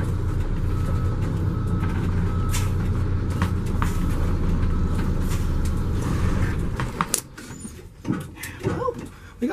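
A 1980 GMC Buffalo coach bus starts to move, giving a loud, rumbling engine drone with clunks and rattles that drops away near the end into scattered knocks and mechanical noises.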